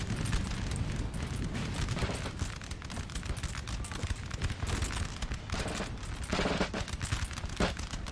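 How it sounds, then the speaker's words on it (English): Infantry musket volleys in Napoleon Total War, a dense crackle of many shots rolling together into loud, continuous battle gunfire with a few sharper bursts, no talk. "Gonna fire a volley, men?"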